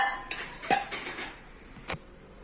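Metal clinks and knocks as parts are fitted onto a small 1.5 litre pressure cooker, a few sharp taps and a scrape, close and fairly loud.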